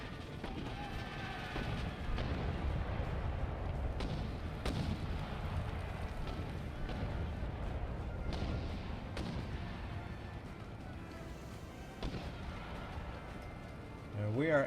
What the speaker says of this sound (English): we are ending up faltering due to that hellacious cannon fire